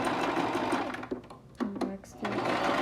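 Sewing machine back-stitching a fabric scrunchie, a loud steady mechanical whir that briefly slows and pauses as the stitching reverses, then runs again.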